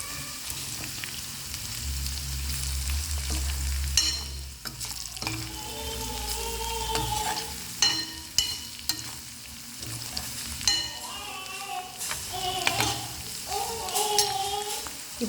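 Spices and chili powder for potato curry stirred in a frying pan, with an even sizzle and a spoon scraping the pan in irregular strokes. A brief low rumble comes early, and no one speaks.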